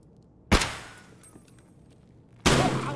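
Two loud, sharp gunshots ring out in the video game Escape from Tarkov, about two seconds apart, each with a short echoing tail inside a building, and no talking between them.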